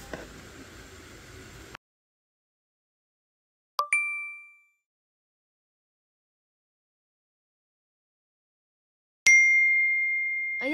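A phone chimes with a text message notification, two short clear dings several seconds apart, the second longer and ringing out, with silence between and a brief burst of noise before.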